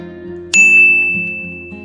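A single bright bell ding rings out and lingers, fading slowly over a soft, steady background tone.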